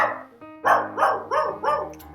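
A dog barks several times indoors, a run of four or five fairly loud, evenly spaced barks close by, with no talking over them.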